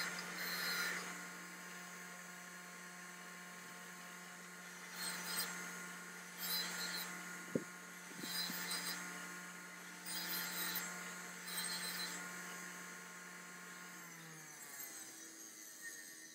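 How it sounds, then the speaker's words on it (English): Wire brushing, scraping and sanding old paint off a compressor casing, a quiet rhythmic rasping in repeated strokes over a steady hum, with one sharp tap in the middle. "it's time for wire brushing, scraping, and sanding to remove any last vestiges of the original paint"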